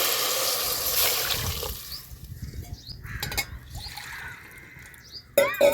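Water poured into a cooking pot for making rice, a loud splashing pour at first that fades into faint trickles and drips, followed by quiet handling clatter.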